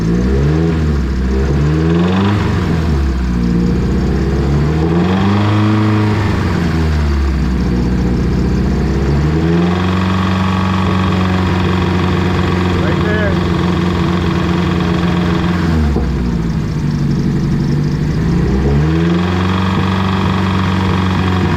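Nissan S13 engine idling with no resonator or catalytic converter, a rough, steady drone with a faint knock, blipped up in revs several times, loud and close.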